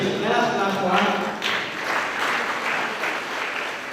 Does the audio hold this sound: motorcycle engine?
no